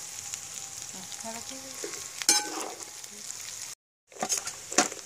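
Masala frying and sizzling in duck fat over a hot open fire for a Kuttanadan duck roast, a steady close hiss with stirring scrapes and a sharp clatter, cut by a brief silence before the sizzle resumes.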